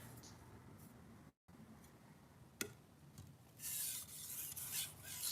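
Close, quiet rasping strokes of a knife edge drawn across a sharpening stone to flip the burr, with a brief silence, a sharp tick, and a brighter hissing scrape near the end.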